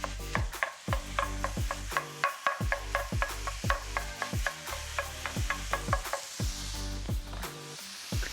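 Ground sirloin beef sizzles in a pan while being stirred, a soft hiss punctuated by regular, rhythmic scraping strokes close by.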